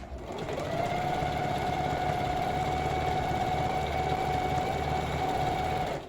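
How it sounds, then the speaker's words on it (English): Steady, continuous whir of a sewing machine stitching fabric while reworking thrifted clothing, running close and loud at an even pace for the whole stretch with no talk. "So just very gently guide the fabric through the machine."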